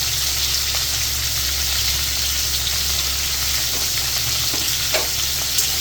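Spices with ridge gourd and potato sizzle and fry in a pan for fish curry, a loud, steady crackling hiss with occasional soft scraping of stirring and no talk.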